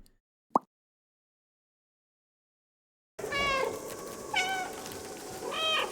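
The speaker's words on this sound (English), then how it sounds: "The main character of Stray is a cute kitty cat who does cat things with his robot friends" A cat meows repeatedly in the video game Stray, with three or four soft cries over a game ambience after a short plop and a stretch of silence.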